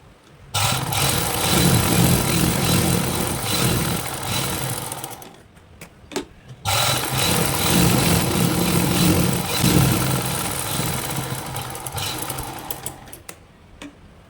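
Sewing machine stitching a cloth side joint, running in long steady loud bursts with a brief pause near the middle before the motor whirs on again, no talking.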